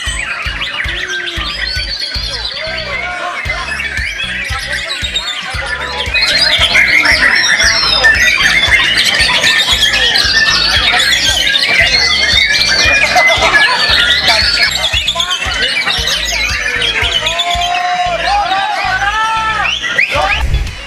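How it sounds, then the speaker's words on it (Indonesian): Songbirds chirping and warbling at a bird singing contest hosted by Kodam II/Sriwijaya, a dense chorus of many overlapping calls and trills that grows louder partway through, with a faint voice underneath. "lomba burung berkicau"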